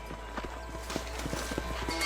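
Horse hooves clip-clop in a quick, uneven rhythm in the Red Dead Redemption video game during a pursuit, fairly faint over a low steady background rumble.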